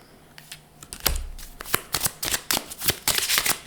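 A deck of message cards is shuffled close by: quiet handling at first, then a rapid run of crisp riffling flutters and slaps.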